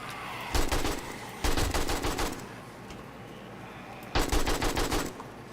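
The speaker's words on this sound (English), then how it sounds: "Good thing about the auto shotgun is it also shoots through other mobs." Bursts of automatic shotgun and AK rifle fire in the zombie survival game 7 Days to Die, three loud rapid volleys separated by quieter gaps over a steady low game-ambience hum.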